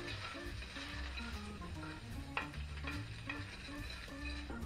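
Potatoes frying in a pan give a steady, moderately loud crackle and stir noise that runs on without pause, with a few sharper clicks along the way and no voice over it.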